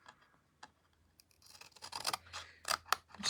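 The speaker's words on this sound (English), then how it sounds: "I'm just going back over that because I didn't trim it properly." A paper trimmer blade slides across cardstock at a Christmas stamping craft table, giving a quiet tick and then a rising scraping slice in short strokes that grows louder toward the end, close by and with no talk.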